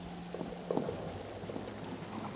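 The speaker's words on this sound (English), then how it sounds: "And here comes some heavy rain." Heavy rain pours with low rumbling thunder in the World War I trench game All Quiet in the Trenches, a dense steady wash at moderate volume with a deep swell partway through.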